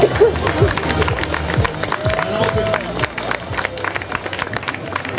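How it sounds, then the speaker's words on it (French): Applause and crowd noise at an outdoor cattle show at a fair, with clapping mixed into loud chatter and voices nearby, steady throughout. "Vous pouvez les applaudir."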